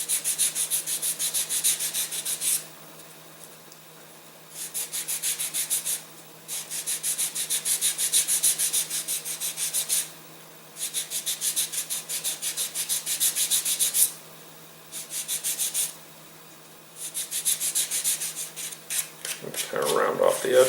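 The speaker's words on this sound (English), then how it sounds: "you'll have to sand the shoulder down a little bit" Sandpaper rubbed by hand over the shoulder of a balsa wood nose cone for a rocket glider, a steady close scratchy hiss in repeated strokes of a few seconds each, with short pauses between passes.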